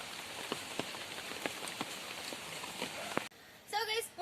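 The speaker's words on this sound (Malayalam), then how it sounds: "അപ്പൊ ഇവിടെ നല്ല ഒരു ചെറിയ മഴ പെയ്യുന്നുണ്ട്. നമ്മുടെ കുളത്തിലൊക്കെ ഇങ്ങനെ വെള്ളം പെയ്യുന്നത്" Light rain falling on a fish pond, a soft steady patter of scattered drops heard outdoors and fairly faint, with a sudden shift to other brief sounds near the end.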